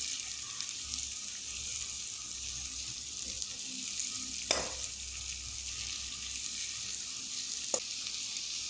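Three finely chopped onions sautéing in a pan for chicken curry give a soft, steady sizzle, with a couple of brief sharp clinks or scrapes from stirring partway through; fairly quiet and continuous, with no talking.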